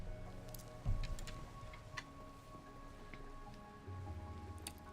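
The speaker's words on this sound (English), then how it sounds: "I'm going to go in here and go to sleep because it is raining and it is nighttime" Rain falls at night in modded Minecraft, a soft steady patter with occasional faint ticks, quiet and without talk.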